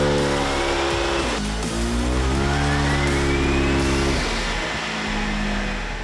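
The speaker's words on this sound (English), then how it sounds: "a successful dyno run of Super Leggera here at K&T" A Super Leggera car engine revving hard on a dyno, a loud continuous roar climbing in pitch through repeated pulls with gear changes, close up and with no talking.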